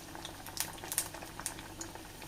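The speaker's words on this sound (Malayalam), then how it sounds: "തിരിച്ചും മറിച്ചൊക്കെ ഇട്ട് നമുക്ക് ഫ്രൈ ചെയ്തെടുക്കാം" Potato cutlets coated in maida batter fry in hot oil, giving a steady bubbling sizzle with scattered sharp crackles and pops, close and fairly quiet, with no voices.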